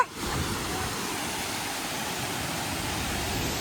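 A constant hiss and roar of water plunging down Ranpat falls in Konkan, heard close and steady for a few seconds without any talking.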